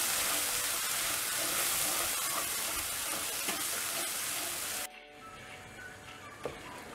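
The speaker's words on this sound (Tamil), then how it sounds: "இந்த எண்ணெயில் இந்த பேஸ்ட் நல்லா ஃப்ரை ஆகணும்" Sundal masala paste fries loudly in hot oil for a street-food style Marina Beach sundal, a dense steady sizzle that cuts out sharply near the end, leaving a quieter crackle.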